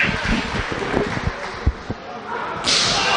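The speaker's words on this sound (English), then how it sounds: "Again with those chops" Open-hand chops land on a wrestler's chest during a pro wrestling match, giving a few sharp slapping thuds over a noisy crowd and arena commotion.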